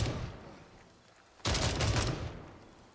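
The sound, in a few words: gunfire in video game Gray Zone Warfare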